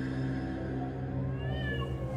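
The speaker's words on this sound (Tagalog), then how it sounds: "Isang mahabang pag-angil ang pinakawala ng aking pusa." A cat gives a long, drawn-out wavering yowl that rises and falls, fairly faint over a steady low background hum.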